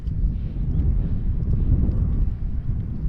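Wind gusts steadily across a hilltop temple viewpoint in Madurai, Tamil Nadu, a constant low roaring rumble buffeting the microphone with no voices.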